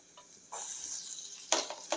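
Garlic drops into hot oil with ginger for a dal and spinach tadka, a near sizzle that jumps up after a quiet start and carries on steadily, with a few sharper clicks of a spoon near the end.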